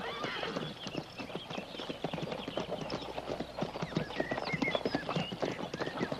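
Hooves clip-clop in a steady rhythm nearby, mixed with scattered birdsong and faint background voices.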